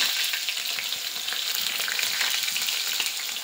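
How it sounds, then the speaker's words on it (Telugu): Mustard seeds spluttering in plenty of hot oil for a cauliflower and potato curry: a dense, steady crackle of tiny pops that runs close and evenly through the whole stretch, with no voices. "ఆవాలు చిట్టుపట్లాడిన తర్వాత"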